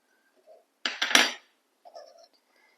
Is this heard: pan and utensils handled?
yes